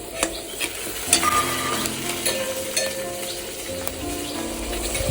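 A spice paste with cumin powder is poured into a hot pan and stirred as it fries, giving a steady sizzle broken by scraping spoon strokes and light clinks against the pan, close and clear.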